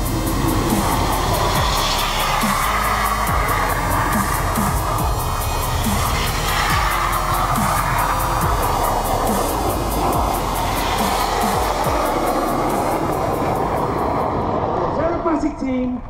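Aircraft engine noise at the Farnborough airshow, a loud steady drone throughout with crowd or commentary talk underneath, fading near the end.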